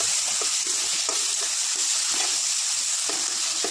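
Potato and spice paste sizzling in a pan, with a loud, continuous frying hiss and soft stirring scrapes throughout.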